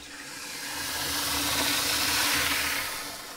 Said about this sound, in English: I've got water going in this one. And this one is also filling up.